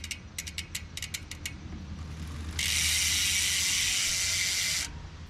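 Rear hub ratchet on a 2021 Trek Fuel EX 8 XT mountain bike: a few quick bursts of close, crisp clicking as the wheel freewheels, then a long, loud hissing rush before it cuts off.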